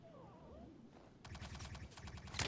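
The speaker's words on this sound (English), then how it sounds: "What the turrets shooting at?" Ship turrets open fire in the Star Citizen space game: after a faint electronic tone, a rapid stream of repeated blasts rattles on steadily to the end, ending in a brighter burst.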